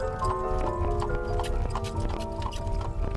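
Horse hooves clip-clop in a steady rhythm over a dense musical backdrop, with sharp hoof strikes spaced through the scene and a possible whinny, no talking.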